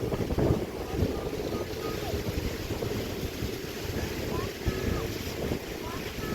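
Steady wind roaring across the microphone outdoors at My An Beach, Da Nang, with a rough low rumble and no one speaking.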